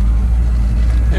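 A log truck engine idles in a rough driveway, a loud, steady low rumble heard close up for a brief moment.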